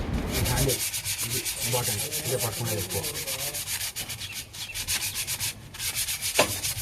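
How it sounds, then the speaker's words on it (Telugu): A wooden cricket bat is sanded and polished by hand in rapid, rhythmic back-and-forth rubbing strokes, close and steady with brief pauses between passes. "ఇప్పుడైతే బాగా పాలిష్ అయితే పడుతున్నాడండి"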